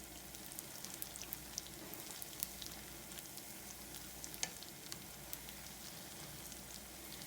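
Food sizzles and crackles steadily in hot oil, a dense continuous frying hiss with scattered sharp pops throughout and no talking.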